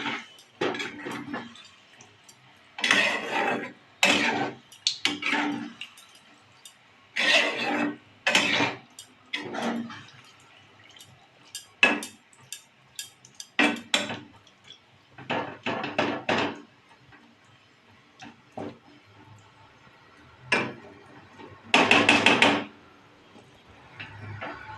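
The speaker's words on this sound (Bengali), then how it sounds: "ভালো করে নাড়িয়ে দেবো" Repeated knocking and scraping of a spoon against a pot while mixed vegetables are stirred in water, in irregular clusters of close, hard taps spread across the clip with quiet gaps between.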